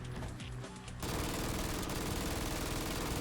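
MG3 medium machine gun hip-fired with explosive rounds in Fallout 4: after a brief quieter lead-in, a loud, dense, continuous burst of rapid automatic fire with blasting impacts runs to the end.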